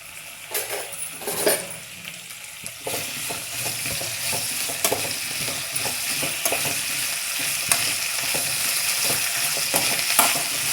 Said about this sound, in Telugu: ఫస్ట్ బెండకాయలు మగ్గిస్తామని కొంచెం నూనె వేస్తున్నా